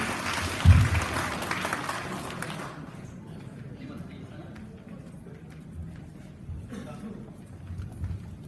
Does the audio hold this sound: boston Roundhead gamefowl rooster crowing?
no